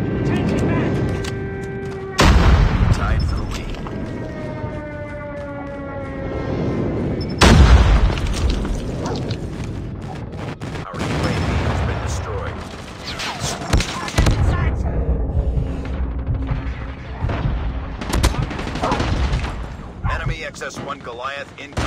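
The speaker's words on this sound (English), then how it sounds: "Friendly airstrike incoming." Friendly airstrike explosions in a multiplayer shooter game, several heavy booms landing at intervals amid scattered gunfire, with radio voices and player chatter speaking over the battle.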